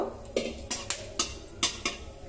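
Dried red chillies frying in ghee, with a series of sharp metallic clinks from a spoon striking the pan at irregular intervals over a soft low sizzle, close up and with no talking.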